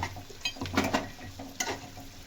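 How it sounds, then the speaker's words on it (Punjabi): Onions fry in a pan for an okra curry, a steady sizzle with stirring scrapes and a few sharp utensil clicks close by, no talking. "ਸਬਜ਼ੀ ਦੇ ਪਿਆਜ਼ ਭੁੰਨਦੇ ਪਏ ਆ ਆਪਾਂ"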